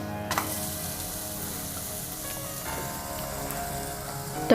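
A banana and wheat flour pancake fries in a pan with a steady, close sizzle throughout, broken by a few soft clicks and a brief clatter at the end.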